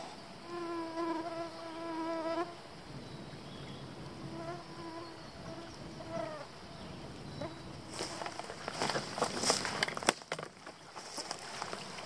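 Mosquitoes and other insects whine and buzz close around a hiker's head in high bug season, steady hums drifting in pitch with faint footsteps or rustling underneath.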